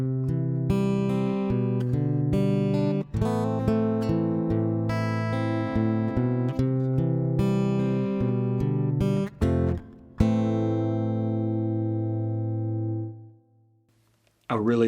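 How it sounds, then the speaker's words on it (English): Acoustic guitar piezo pickup in a clean tone through a Fractal FM3/FM9/Axe-FX III compressor with parallel plate reverb, playing sustained chords and arpeggiated notes with a full, rich body before ringing out and fading to silence. "A really lovely full-bodied sounding piezo coming out of this guitar."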